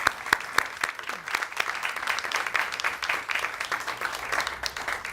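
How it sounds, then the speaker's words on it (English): Sustained applause from a room full of people honoring the Voyager spacecraft team at a NASA news conference on reaching interstellar space, a dense steady wash of clapping lasting several seconds. "let's give them a round of applause"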